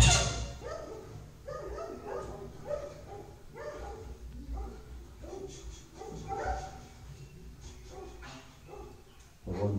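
A dog barks near a house on a coffee estate in India, a string of barks and yips spread over several seconds at moderate distance, with faint voices in the background.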